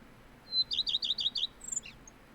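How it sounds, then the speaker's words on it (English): Loud bird calls in the fishing game Russian Fishing 4 at the Akhutba River: a quick run of five or six bright, close chirps, then a couple of fainter trailing notes. "Wow, that was a loud bird."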